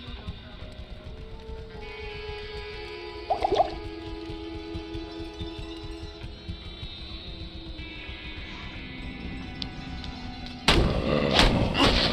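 A barrel explodes in the Diablo 2 game, a sudden loud blast near the end that stands out over the steady game ambience and music, with a smaller thud earlier on.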